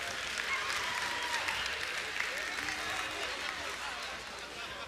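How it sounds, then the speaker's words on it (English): Church congregation applauding a sports team during a sermon, a fairly faint, distant, continuous wash of clapping from a large crowd. "Let's give them a round of applause"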